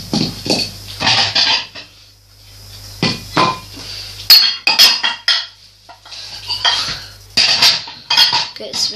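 Dishes and cutlery clattering as a serving dish is taken out in a home kitchen, repeated bursts of close clinks and knocks with short pauses between, loud and busy.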